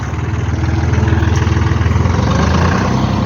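A tractor engine runs steadily up close at a loud, even idle, preparing to pull a bus stuck badly in mud, with no talk over it.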